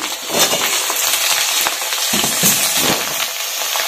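Small-cut potatoes dropped into a hot pan of oil for a bean curry fry with a loud, steady sizzle, with crackle and scattered stirring clatter running throughout, no voices.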